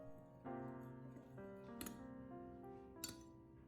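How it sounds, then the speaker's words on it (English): Spoon clinking against a bowl while sugar is stirred into an eggshell cockroach-bait mixture, with a few light, irregular taps and scrapes at close range. "add a bit of sweetness by adding 1 spoonful of sugar and continue stirring well"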